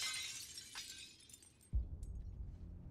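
Glass display case shattering in the Suicide Squad Kills the Justice League video game, a sudden heavy crash followed by a spray of tinkling shards over constant game background noise, with no talking.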